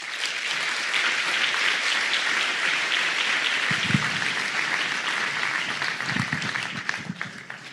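Steady audience applause at a New Year's greetings ceremony for residents, welcoming the youth municipal council; dense, continuous clapping from many hands fills the whole stretch, with a few low thumps partway through.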